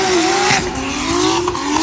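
Drift cars at a Cyprus Drift Championship practice round, engine revving hard with a sustained wavering whine and loud tire squeal, close and continuous with no talk over it.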